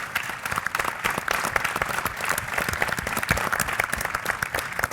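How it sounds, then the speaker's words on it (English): A live audience applauds finalists at the SEMA Launch Pad 2013 competition event with steady dense clapping throughout. A few scattered cheers can be heard within the applause. "So round of applause for all 5 of our candidates."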